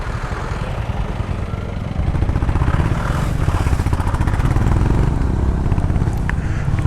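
Honda CB motorcycle engines rumble together in a large group ride on the road from Gangtok to Nathula Pass, a dense, steady throbbing that grows slightly louder midway as bikes rev and move off.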